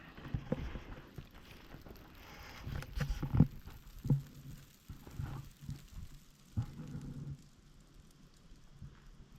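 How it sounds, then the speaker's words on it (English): Debris drops out of a pine tree in Maine woods, producing scattered patters and soft thuds like rain landing on the forest floor, irregular and fairly faint with a few louder hits. "bunch of stuff falling out of the pine tree"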